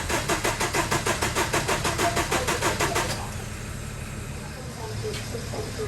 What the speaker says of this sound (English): Right, so the MGF isn't starting.